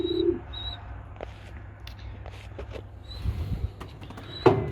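Pigeons in a breeding loft give brief, soft low coos at the start and near the end, with faint chirps and a few light creaks and knocks in a quiet space.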